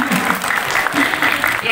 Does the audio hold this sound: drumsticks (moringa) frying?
no